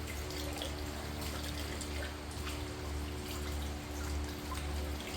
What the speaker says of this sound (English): I'm just gonna rinse it off.